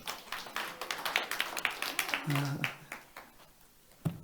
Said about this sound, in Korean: 이렇게 영광의 박수 올려드리겠습니다